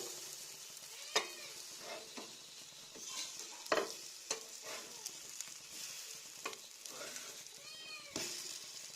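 Monsoon fruit, jackfruit, roasting in a pan while being stirred, producing a steady sizzle with scraping strokes and sharp clinks of the utensil against the pan, close and moderately loud.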